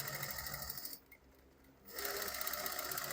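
A sewing machine stitching: a loud, fast, continuous rattling whir that cuts off for about a second, then starts again and runs steadily, close up.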